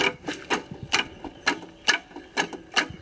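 A homemade hydraulic forging press, built on a gas-cylinder base with welded steel, runs in a rapid mechanical rhythm, about seven sharp metallic clacks evenly spaced, close and clear with no talk.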